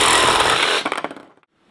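A power tool slices through pipe being cut to 16-inch lengths, a loud, harsh buzzing cut that runs about a second, then rattles and dies away to silence.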